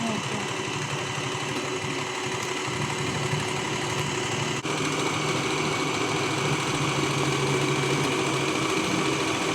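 A sewing machine runs steadily, stitching cloth forward and then in reverse a few times to lock the seam, its motor whirring continuously and fairly loud for the whole stretch with no pause.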